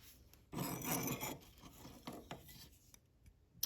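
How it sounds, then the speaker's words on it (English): Trimming a tab off the edge of a clay wall vase, close scraping and rasping strokes in short bursts, fading into quiet taps. "So I'm just cutting off this tab."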